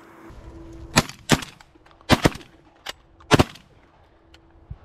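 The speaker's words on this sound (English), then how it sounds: "Good shooting though." Shotgun blasts on an Ontario goose hunt ring out in quick bursts, a pair, then a close double, a single and another pair, sharp and loud over a steady low hum with no talk.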